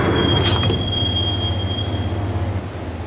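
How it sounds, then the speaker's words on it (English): Subway train in the Max Payne video game riding the rails, a steady loud low rumble with high metallic wheel squeals sustained for most of the stretch before easing off near the end. "the train doors had already shut behind me, and I was in for the ride"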